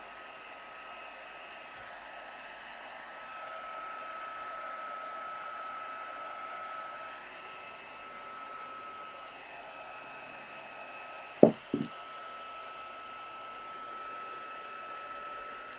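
A hair dryer blows steadily to dry craft paste on a steampunk chest project, a constant moderate whir with two sharp knocks near the end.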